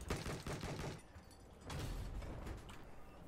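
Sustained automatic gunfire in Battlefield 4, shooting at a wall, heard as two dense, fairly distant bursts of rattling shots separated by a brief lull.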